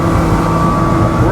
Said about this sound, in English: let's just open it up and give it some wide open throttle